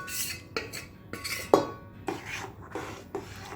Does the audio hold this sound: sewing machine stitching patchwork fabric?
no